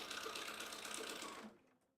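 A sewing machine runs steadily, stitching fabric at a fast, even rattle that stops after about a second and a half and leaves a fading tail.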